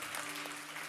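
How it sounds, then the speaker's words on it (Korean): A church congregation gives a short burst of steady applause, faint and even, over a low hum. "다시 한번 영광 받으신 하나님께 박수와 영광 드리겠습니다"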